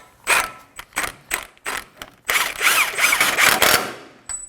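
Ratchet snugging an axle nut onto a Nissan Armada front wheel hub: several short bursts of clicking, then a longer run of rapid ratcheting, loud and close with no talk.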